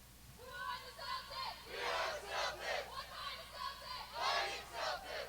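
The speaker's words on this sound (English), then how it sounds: "Please join us for our final class cheer." A graduating high school class shouts a group cheer at a ceremony, several loud bursts of many voices chanting together in rhythm, heard from a moderate distance.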